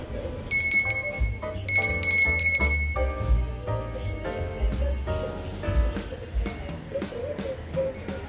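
A small Japanese bell rings out in bright, repeated metallic tings with a sustained shimmer, struck several times up close in a quiet room.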